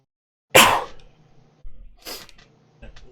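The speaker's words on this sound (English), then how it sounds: "I'm seeing you sneeze now." A person sneezes sharply once, followed by a second, softer sneeze and a faint trailing sound, close by in an otherwise quiet room.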